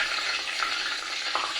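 Philly cheese steak egg rolls frying in hot oil, giving a steady, close, dense sizzle that crackles without pause throughout, with no voices.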